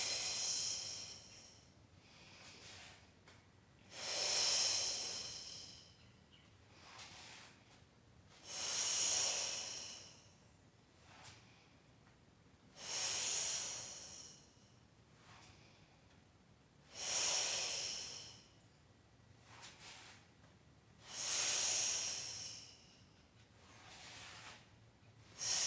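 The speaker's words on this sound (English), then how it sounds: "Inhale, breathing into it, expanding, and exhale, zipping it up." Slow, deep core breaths during a workout, each long exhale rising as a loud breathy hiss roughly every four to five seconds, with quieter inhales between, close and alone with no talking.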